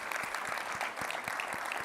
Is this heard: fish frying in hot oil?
no